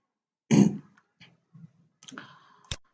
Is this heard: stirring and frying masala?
no